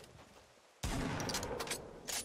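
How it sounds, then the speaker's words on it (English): Sudden loud gunfire erupts in Fortnite Battle Royale after a quiet stretch, a dense burst of shots close by that keeps going with a few sharper cracks at the end. "there's someone shooting at me"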